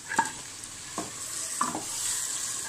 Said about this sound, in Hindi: मसाला जो है वो अच्छे से रेडी हो गया है और इसने ऑयल भी छोड़ दिया है, तो अब हम इसमें ऐड कर लेंगे चिकन